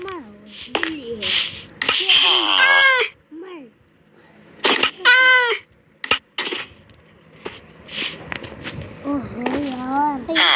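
Rising and falling meows from a cat in a children's block-building video game come in several short bursts, mixed with someone talking and other game sounds.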